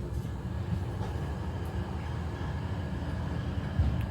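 Steady low rumble and rattling hum of a moving passenger train between Switzerland and Germany heard from inside the carriage, constant throughout with no talking.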